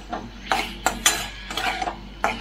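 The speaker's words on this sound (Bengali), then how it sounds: "এবার আস্তে আস্তে এটাকে কষাবো" A spice masala with thinly sliced onion is stirred in a pan. It makes about six rhythmic scraping, clinking strokes of a utensil against metal, close and moderately loud.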